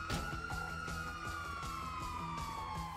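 Wailing emergency siren from an ambulance in the game GTA V, a continuous sweeping tone heard close and steady over engine rumble and rhythmic thumps.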